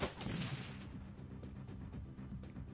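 Automated turret gunfire in the Shadowrun: Dragonfall tactical game, a steady burst of repeated shots rattling along for a few seconds with no speech over it.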